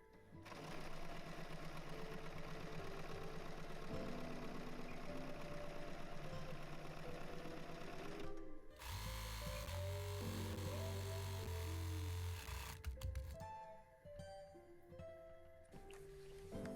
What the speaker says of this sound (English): So I'm going to sew it all along the edge of the whole shrug